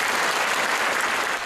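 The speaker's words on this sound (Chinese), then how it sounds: "掌声献给演奏者，" A concert audience applauds performers in a hall, a dense, steady wash of clapping that holds loud for a moment and eases slightly at the end.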